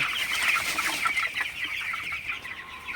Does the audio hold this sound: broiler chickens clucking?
yes